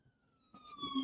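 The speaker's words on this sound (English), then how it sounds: "We got the sirens coming. Here comes the cops." Police car siren approaching, a steady wail that rises sharply and grows louder about halfway through, moving from faint and distant to near.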